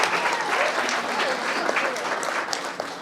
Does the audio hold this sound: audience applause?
yes